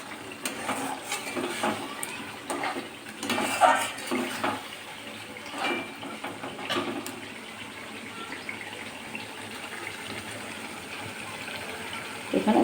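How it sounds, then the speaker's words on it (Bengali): Milk poured into a pan of paneer curry masala, a running, splashing pour with bursts of gurgling and clatter over several seconds, easing to a softer simmering hiss near the end. "এখানে আমি দুধ দিয়ে দিচ্ছি"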